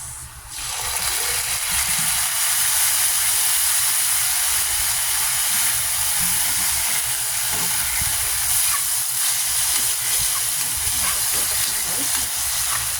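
Garlic, onion, ginger and fish sauce sizzle in a hot pan, a loud steady hiss that starts abruptly and holds unbroken for many seconds.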